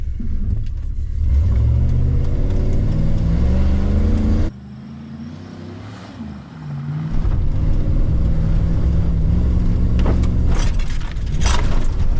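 A pickup truck engine revs loud and close before a jump, a sustained rising roar that drops off briefly midway and then surges again at full throttle.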